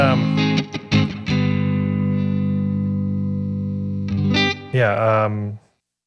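Electric guitar through a Ghost Echo pedal plays a few plucked notes then a long ringing chord with echo and reverb trailing off, followed by another brief chord that stops abruptly.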